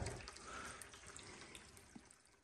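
Aquarium water being siphoned out with a gravel cleaner during a water change, a soft continuous gurgling and trickling flow with a few small splashes, quiet and close with no voices.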